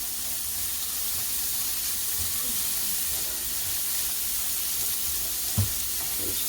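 Food sizzles in a pan while being sautéed for beef burgers and slaw, a steady bright hiss running throughout with occasional soft stirring knocks close by.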